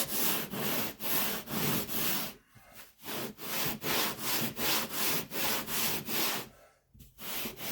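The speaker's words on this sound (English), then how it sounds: "I'm just letting the sandpaper do the work." Sandpaper scrubs back and forth over a wooden workpiece in a steady rhythm of about two strokes per second, close and fairly quiet, pausing twice briefly.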